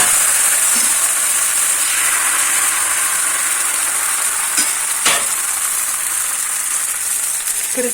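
Dosa batter sizzles steadily on a hot pan with a bright, constant hiss, broken by a couple of short scraping clicks.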